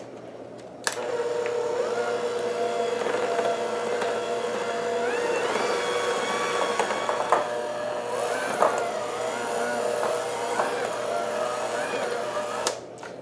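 Electric hand mixer beaters whir steadily through yellow cake batter with melted butter and egg, a continuous close motor drone with wavering pitch and occasional knocks against the bowl.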